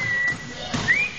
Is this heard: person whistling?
yes